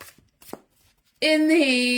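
Tarot cards being shuffled by hand, a couple of soft riffling flicks that then give way to a loud, sustained tonal sound.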